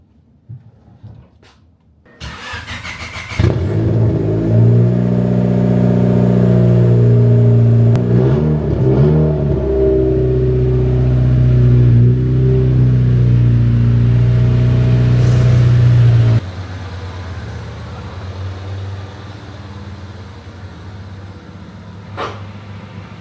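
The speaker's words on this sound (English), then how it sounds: "let's get this thing out the garage" An old, abandoned Honda Civic coupe starts up with a loud clattering crank, then its engine idles and revs roughly up close as it pulls out of a garage, dropping to a quieter rumble near the end.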